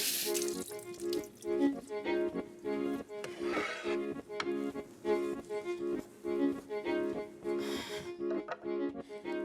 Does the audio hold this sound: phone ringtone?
no